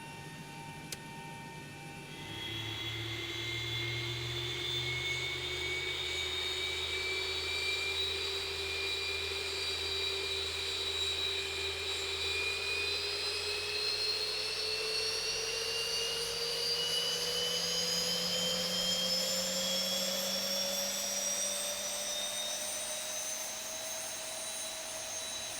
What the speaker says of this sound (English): we'll go ahead and start engine number 2